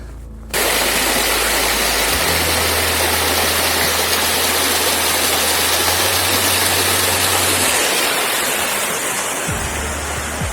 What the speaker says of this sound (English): This is probably my favourite waterfall in Northumberland here, like with like lots of little rapids and stuff as well.